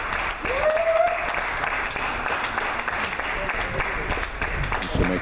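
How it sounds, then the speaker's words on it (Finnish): Crowd noise at a live show-wrestling event in Finland: a broad, sustained roar of cheering and applause from the audience, with an announcer's voice calling the action over it throughout. "Yleisö lähtee kannustamaan jälleen Semeikkaa."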